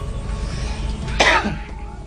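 A single short, rough cough rises above low background hum, close and fairly loud.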